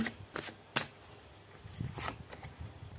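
Tarot cards are shuffled in a quiet room, giving several short, crisp riffling bursts close by, separated by brief pauses, with softer card handling toward the end.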